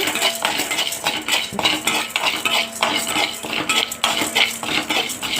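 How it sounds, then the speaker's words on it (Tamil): Chana dal and urad dal dry roasting in a kadai, stirred with a spatula: continuous close scraping and dry, gritty rattling of lentils against the metal pan, with repeated stirring strokes and no voices. "இப்போ கடலைப்பருப்பையும் உளுந்தம்பருப்பையும் ஒரு கடாயில் போட்டு ட்ரையாக நல்லா மனம் வர அளவுக்கு ஃப்ரை பண்ணி"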